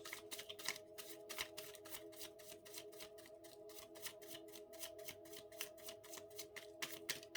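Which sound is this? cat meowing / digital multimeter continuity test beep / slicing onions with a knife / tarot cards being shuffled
tarot cards being shuffled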